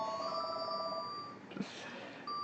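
A telephone rings unanswered in a repeating electronic trill. The ring is fairly faint and rests in a low background hum, with a small knock partway through.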